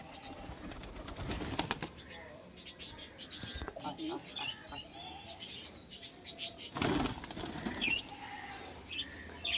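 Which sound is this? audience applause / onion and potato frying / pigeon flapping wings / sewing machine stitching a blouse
pigeon flapping wings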